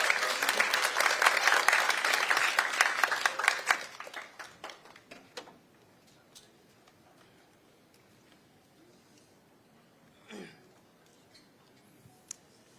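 Loud crowd applause at a political rally in a public square, dense clapping that fades into scattered claps and quiet crowd noise.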